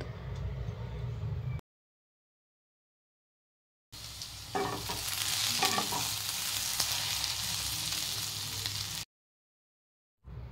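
Chopped ivy gourd sizzles and fries in a pan with turmeric while a spoon stirs and scrapes, steady crackling broken by short silent gaps.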